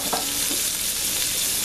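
Onions and mushrooms frying in melted butter give a steady, close sizzle that stays even and unbroken, with a couple of faint stirring scrapes near the start.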